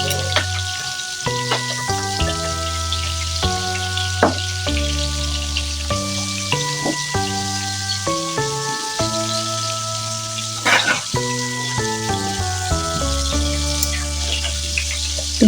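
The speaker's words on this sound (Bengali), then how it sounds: "এই মাছগুলো এক একটা মাছ 30 সেকেন্ডের বেশি একদমই ভাজতে যাবেন না" Fish pieces sizzle in hot oil, a steady crackling hiss that runs the whole time beneath louder background music.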